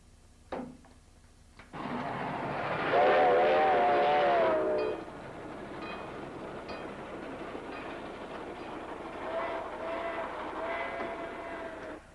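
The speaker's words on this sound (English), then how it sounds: "You know, Carl, if we could get some train whistles, noises" Train noise rumbles steadily after a couple of sharp knocks, with a wavering whistle blowing for a few seconds and fainter whistles later.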